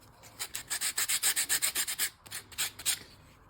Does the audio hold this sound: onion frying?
no